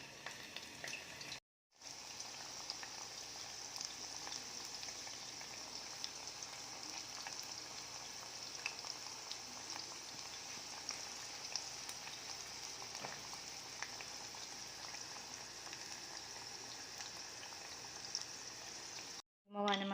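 Thinly sliced chicken fries in a pan over low heat, giving a steady, even sizzle with a soft crackle that runs unbroken for most of the clip, apart from brief dropouts near the start and end.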